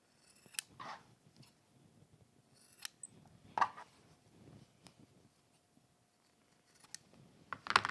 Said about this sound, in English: If you would like to trim away any excess in the corners,